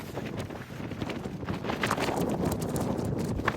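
Strong wind buffets a microphone outdoors at a scenic overlook, a loud rumbling roar with gusty rises and no speech.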